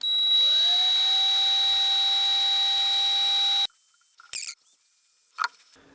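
A high-pitched drill motor whine rises and holds steady for several seconds while tightening nylon lock nuts, then cuts off, followed by a couple of brief clicks and rattles.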